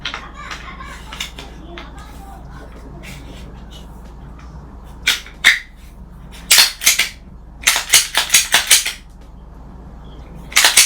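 A pistol slide being fitted back onto the frame during a RamJet AfterBurner install: a series of sharp, close metallic clicks and snaps in quick bursts, following a stretch of quieter handling noise with a voice talking.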